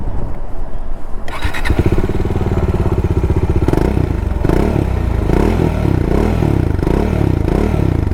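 A Bajaj Dominar 400 motorcycle starts up with a clatter, then its loud, bassy exhaust note throbs close by, idling and blipping in repeated rising revs.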